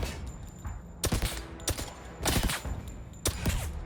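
Bursts of gunfire from the video game 007 First Light come in three clusters of rapid, loud shots separated by short quieter gaps.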